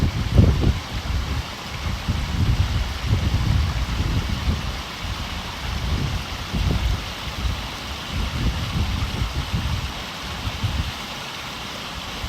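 Water from a large backyard koi pond waterfall spills steadily into a small stream, a continuous rushing splash close by with no voices.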